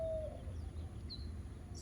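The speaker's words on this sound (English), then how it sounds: "You can hear the birds." Birds call in an autumn forest, with a couple of brief, thin whistled notes, faint and spaced apart over a soft, steady background hush.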